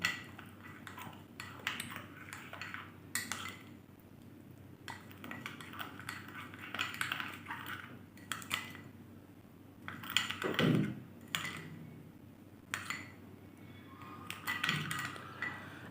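A spoon stirs an oil mixture made with coconut oil in a bowl, giving irregular soft scraping and light metallic clinks against the sides, quiet and close, with a couple of louder taps.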